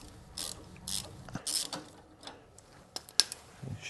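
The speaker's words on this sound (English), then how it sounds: "we'll use the 13mm socket here to crack off the bellows" A 13mm socket ratchet loosens the cooling bellows on an air-cooled VW engine, giving short bursts of fast, quiet clicking close by.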